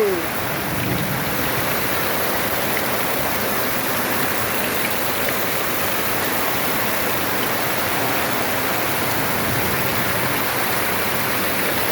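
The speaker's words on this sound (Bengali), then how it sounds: "বৃষ্টি কেমনে পড়তেছে, মাশাল্লাহ মাশাল্লাহ" Heavy rain pours down in a village, a dense and even roar of falling water that stays loud and close without a break, with no voices over it.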